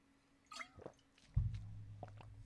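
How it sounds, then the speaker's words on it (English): Someone takes a sip of water, with a few small mouth and lip sounds followed by a close, soft gulping swallow, heard alone in a quiet room. "I'm going to take a sip of water, you guys."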